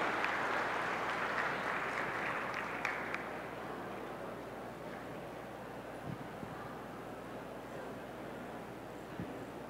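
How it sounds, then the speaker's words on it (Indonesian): Audience applause for a professor at an Indonesian lecture on zakat, a steady wash of clapping from a crowd that starts fuller and then settles into a softer, even patter, heard at some distance. "mari kita beri aplaus untuk Bapak Profesor Dr. H.M. Darwis Hudi MSI"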